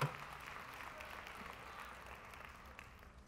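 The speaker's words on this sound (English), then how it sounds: "Give some hand claps up in there." A church congregation claps during a sermon, a soft, fairly distant wash of many hands that starts with a sharper burst and slowly tapers over a few seconds.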